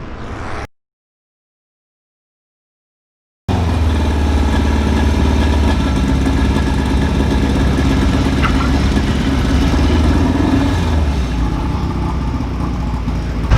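A midget race car engine running during practice at Thompson Speedway, a loud, continuous droning roar that starts abruptly after a few seconds of silence and holds steady.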